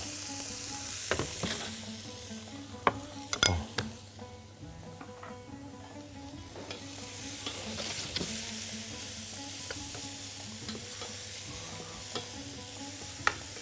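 Butter and onion sizzle in a frying pan, a steady close hiss that runs throughout, with a few sharp utensil clicks and a brief clatter near the start and no talking.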